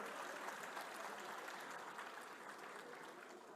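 Audience applause at a Gujarati motivational speech event, a dense steady wash of many hands clapping from the crowd, fairly distant and even throughout.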